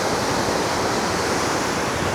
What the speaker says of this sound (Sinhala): කබරගල ඇල්ලෙන් එන වතුර පාර